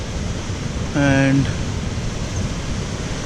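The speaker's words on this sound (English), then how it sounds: "Too much water flowing around." Water rushes through a large dam in Karnataka as a constant broadband roar, loud and unbroken throughout, with a person briefly speaking over it.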